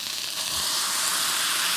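Ground beef sears in a hot pan with neutral oil over slightly above medium heat, a loud, steady hiss that swells after a brief start and then holds constant, with no talk.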